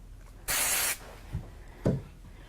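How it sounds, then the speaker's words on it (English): Spray adhesive aimed at the back of a card piece for papercraft gives one loud, half-second hiss, followed by a couple of faint handling taps in a quiet room. "I'm going to do a quick spray on the back,"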